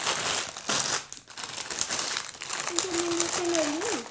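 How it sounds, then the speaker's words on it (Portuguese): Items being wrapped in packaging while tidying a living room, crinkling and crumpling plastic or paper rustles in bursts, close and loud, with a short voiced tone near the end. "eu vou embalar tudo isso aqui"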